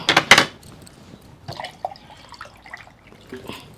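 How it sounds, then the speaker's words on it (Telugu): Drinking water is poured during an eating challenge, opening with a brief loud splashing gush and followed by softer trickles, drips and small clinks. "మంచినీళ్ళు పోసుకోవాలి"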